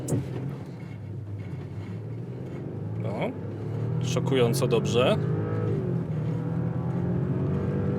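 A 2023 Volkswagen Touareg Elegance PHEV with a 3.0 V6 (381 hp) accelerates at full throttle from a standstill, its loud, steady engine roar building and holding while someone speaks briefly over it.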